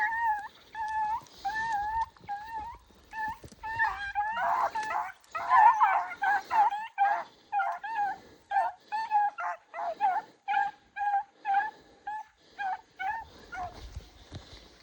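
A dog outdoors during ice and snow training whimpers and yips in a rapid series of high, whining cries that build into sharper barks, close and fairly loud, with no talking.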